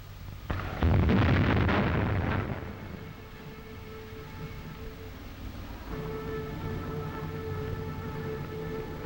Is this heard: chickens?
no